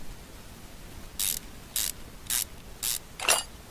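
A ratchet in the video game Car Mechanic Simulator clicks through five short, evenly spaced bursts as bolts come off a throttle body, crisp and close against a quiet background.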